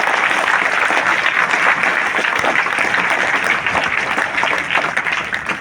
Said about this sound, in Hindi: उनके लिए जोरदार तालियां बनती